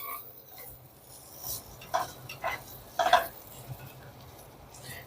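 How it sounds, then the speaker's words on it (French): Chorizo set to brown in hot olive oil gives a faint, soft sizzle, with a few scraping and rubbing touches of a utensil in the pan at close range, no talk. "Je mets le chorizo à revenir."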